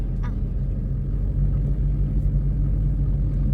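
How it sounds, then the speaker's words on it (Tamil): A car being driven in third gear along a dipping road gives a steady low engine rumble and road drone, moderately loud and continuous, with no talking. "இப்போ கார் வந்து பள்ளத்தில் போயிட்டுருக்கு அண்ட் தேர்ட் கியரில் இருக்குது"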